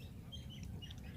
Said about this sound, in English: the water is absolutely alive with bird life